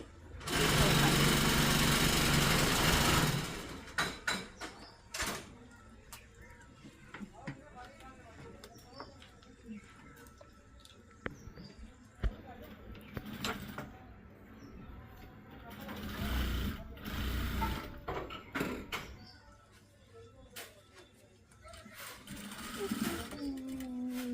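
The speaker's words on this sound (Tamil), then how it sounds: "இதே மாதிரி அப்படியே ஃபுல்லாக தைப்பேன்" Sewing machine stitching a party frock in a tailoring shop, bursts of fast mechanical whirring with pauses between runs, a loud stretch at the start, pigeons cooing and background noise around it.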